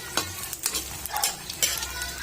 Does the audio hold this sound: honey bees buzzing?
no